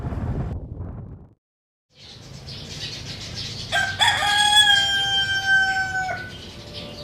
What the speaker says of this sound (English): It's morning, as you can hear, from the roosters.